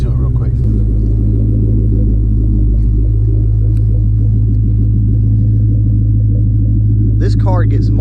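A car with a Flowmaster exhaust idles with a deep, heavy exhaust rumble close by, steady and throaty, with a short burst of speech near the end.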